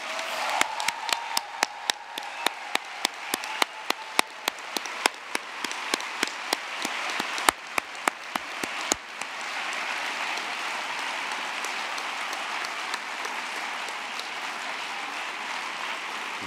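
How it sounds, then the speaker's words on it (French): An audience at a ceremony applauds, a dense wash of hand clapping that starts with some sharper individual claps and then continues evenly, moderately loud and without speech. "je vous demanderai d'applaudir Madame Evelyne Creuset-Rolls de Châtelaine"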